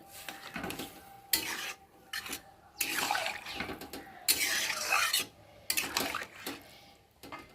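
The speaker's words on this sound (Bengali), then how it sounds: "আর এখন আমি একটু ভালো করে নেড়ে দেবো।" Live fish curry being stirred in a cooking pot, with bursts of scraping and clattering from the spoon against the metal, interspersed with short pauses, close and moderately loud.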